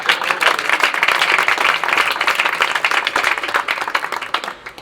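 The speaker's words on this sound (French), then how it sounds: "Ouais, là, vous pouvez applaudir." An audience claps steadily and fairly loudly throughout, a close, continuous patter of many hands.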